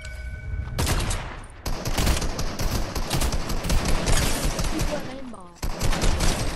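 Bursts of automatic and single gunfire from a shooter video game rattle on rapidly and loudly for several seconds, mixed with game effects, while a player talks excitedly over the shooting.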